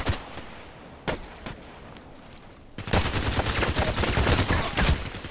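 Gunfire in a sniper gameplay match on an Old Sawmill map: a few sharp, isolated cracks at first, then a dense, rapid burst of overlapping shots, loud and close with no talking.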